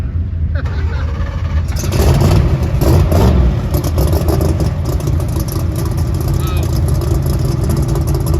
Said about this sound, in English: Well, the Viper is getting out on the road.